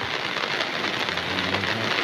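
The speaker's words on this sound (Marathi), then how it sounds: "इकडे शहापूरमधल्या पावसाची दृश्य मोठा पाऊस झाल्यामुळे सध्या नद्या दुथडी भरून वाहत आहेत" Heavy monsoon rain pours down in Shahapur, a dense, loud, unbroken roar of water striking surfaces with no pauses or voices.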